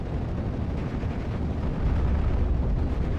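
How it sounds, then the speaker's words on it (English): A satchel charge thrown by sappers going off in Steel Division: Normandy 44 at Pointe du Hoc, heard as a dense, rumbling roar of explosion and battle noise that swells slightly toward the end, with no voices. "The satchel charge was thrown by the sappers."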